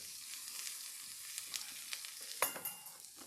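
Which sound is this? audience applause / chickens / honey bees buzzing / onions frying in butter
onions frying in butter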